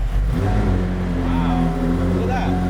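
A car engine starts and revs, a loud steady low rumble with rising and falling pitch, while people talk over it.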